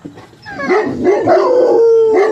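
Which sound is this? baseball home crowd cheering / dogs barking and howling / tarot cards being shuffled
dogs barking and howling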